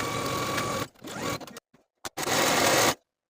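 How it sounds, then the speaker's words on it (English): Sewing machine stitching shoulder seams on a wrap top, close and loud, in two short bursts of running motor with a brief stop and a few clicks between them, no talking. "Sew your shoulder seams with a 5/8 inch seam allowance and serge your seams to finish."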